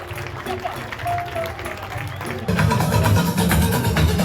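A street-parade crowd applauds the Danka dance company, sustained clapping that swells louder partway through, mixed with crowd murmur and a voice speaking over it early on.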